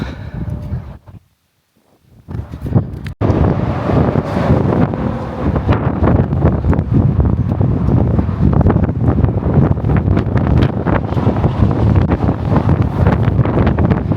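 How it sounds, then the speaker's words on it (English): Heavy wind buffeting a microphone at Hoover Dam, loud and continuous roaring gusts after a brief quiet moment at the start. "Hold on to your hats, because it's very windy."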